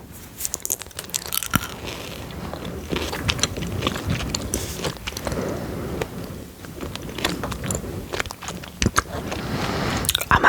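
Halloween sweets bitten and chewed close to the mouth, with repeated crunches, squishy chewing and occasional wrapper crinkles over a quiet background.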